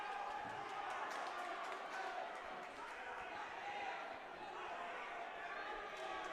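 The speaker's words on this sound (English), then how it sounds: "As you can hear, the crowd's getting pretty excited here." Excited crowd noise fills a wrestling tournament venue, a steady dense roar of many voices with shouts and chatter, close and continuous throughout, with no single voice standing out.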